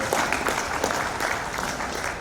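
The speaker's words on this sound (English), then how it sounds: "Another hand clap for Apostle Dr." Audience applause at an Inter-Religious Council of Uganda assembly, a dense, steady burst of many hands clapping together, loud and close, holding evenly for a couple of seconds.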